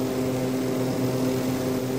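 A propeller airplane's engine drones steadily during a takeoff roll in the Extreme Landings Pro flight simulator game, a constant tonal hum at even loudness with no speech over it.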